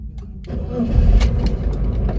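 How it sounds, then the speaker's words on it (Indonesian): A Suzuki Carry mini truck's engine cranks briefly and catches, then settles into a steady idle with a faint clatter, close and clear with no talking. "Oke, kita nyalain lagi mesin ya."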